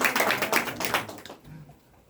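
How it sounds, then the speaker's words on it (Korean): Brief clapping from a small audience gathered for a lecture in a church, a few sharp bursts of hand claps over about a second before dying away. "박수 한번 치고 합시다"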